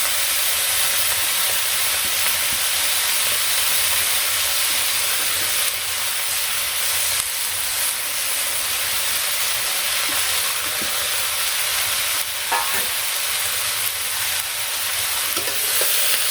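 Leafy greens sizzle and hiss steadily in a hot pan in a village kitchen, a loud, continuous frying sound broken now and then by soft scrapes and clatters as they are stirred.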